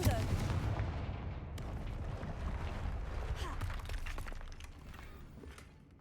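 A Confringo blasting spell goes off in Hogwarts Legacy, a heavy booming burst at the start that rumbles and crackles as debris fades away, ending in quieter scattered crackles.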